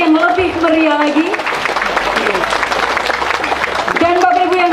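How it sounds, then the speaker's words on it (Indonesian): Ceremony audience clapping at the launch of a public service mall in Atambua, Timor, a dense burst of applause in the middle with a speaking voice on the loudspeaker before and after. "Boleh tepuk tangan sekali lagi yang lebih meriah lagi."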